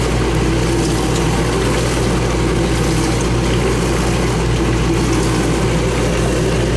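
Dishwasher motor running steadily after the dial is turned, a loud continuous low hum and drone with constant broadband mechanical noise throughout, no pauses or talk.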